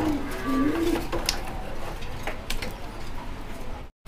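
Danish white pigeons at a pigeon sale give soft, low coos near the start, over a steady background hum with a few faint clicks.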